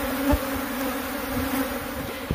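Bees buzz inside a bathtub wall, giving a steady, droning hum close by with a few louder passes, alone without speech.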